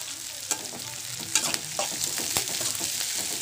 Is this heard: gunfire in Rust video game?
no